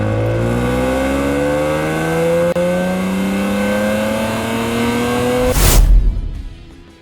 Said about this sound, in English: the engine changes note, the torque pulls harder, and it just sings all the way to redline